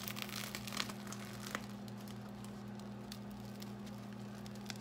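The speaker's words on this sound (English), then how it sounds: "And let me break it for you." A loaf of crusty homemade French bread is torn apart, giving quiet, scattered crackles and crunchy crumbles over a low background hum.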